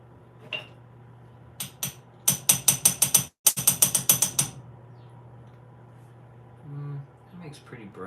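A hand engraving cutter scrapes and textures steel with a quick run of sharp, bright ticking strokes, first in a few separate taps and then in two dense bursts. A quiet room hum runs underneath, with faint movement near the end.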